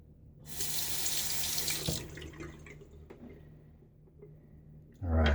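Tap water runs loudly into a sink while a safety razor is rinsed during a wet shave with a Gillette Nacet blade, a steady gush that tapers off before a brief louder splash at the end.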